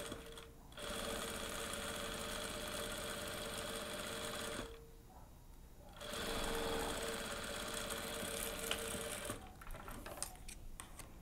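A sewing machine runs in long steady stretches of fast, even stitching, topstitching a fine seam close to the edge of a fabric cutlery holder, with a couple of short pauses between runs and no talk.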